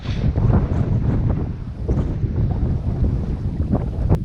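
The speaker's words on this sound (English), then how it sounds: "what a windy day." Strong wind buffets a hillside campsite above a loch in the Galloway Forest Park, roaring loudly and steadily in gusts against the microphone, with no talking.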